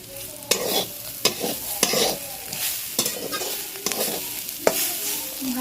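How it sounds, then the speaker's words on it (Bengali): Spices frying in a pan for chowmein while being stirred, with a series of sharp utensil scrapes and knocks spaced about a second apart over a continuous sizzle, close and fairly loud. "ভালো করে নাড়িয়ে নিলাম"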